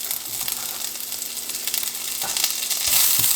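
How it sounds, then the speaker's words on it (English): Onion with cardamom and cloves fries in a pan, giving a steady, close sizzle that grows slightly louder toward the end. "let's fry this until onion a little bit like brown or a little bit caramelized"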